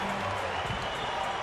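A baseball stadium crowd applauds and cheers after a play at the plate during a San Diego at Colorado game, a dense, steady roar with a voice talking over it.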